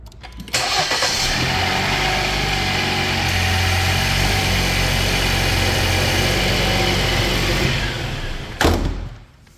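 A 2020 Jeep Wrangler Unlimited Rubicon engine cranks and fires, then settles into a steady, close, loud idle for several seconds before being shut off with a brief clunk.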